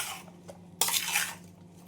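A spoon stirs a homemade pickle of green turmeric, ginger and chili in a dish, giving one sharp scraping clink followed by a brief soft rustle of mixing.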